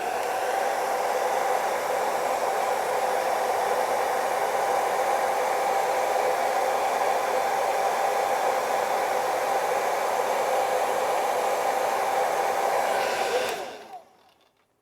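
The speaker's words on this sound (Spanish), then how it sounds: "vamos a darle otro poquito con el secador de mano" A hand-held hair dryer blows steadily on a scale model of an AH-64 Apache helicopter during weathering work, a loud, even, close rushing hiss that runs almost the whole time and then cuts off and winds down near the end.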